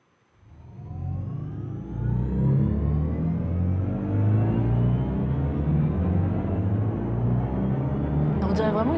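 Synthetic acceleration tone designed by Hans Zimmer for a BMW electric car, a smooth layered hum that swells in and rises steadily in pitch like a revving engine, loud and continuous for about eight seconds.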